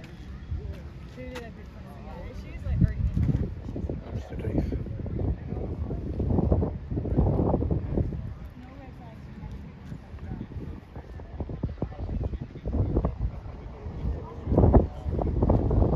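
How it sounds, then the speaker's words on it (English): Steady wind buffets the microphone on the open hilltop of Parliament Hill in London, a low rumbling roar with gusts throughout and a speaker talking over it. "A bit blowy up here."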